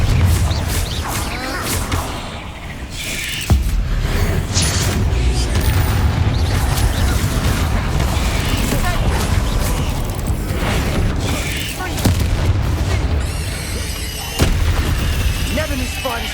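Confringo fire spell explosions from the Hogwarts Legacy video game, with loud booming blasts around 3.5, 12 and 14.5 seconds over a dense, continuous rumble of game effects and background music.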